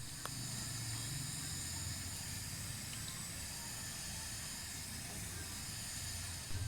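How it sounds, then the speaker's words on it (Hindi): Okra frying in hot oil in a kadhai, a steady, even sizzling hiss that holds at a constant level throughout with no voices over it. "इसी तरह हम दूसरी भिंडी को भी फ्राई कर लेंगे"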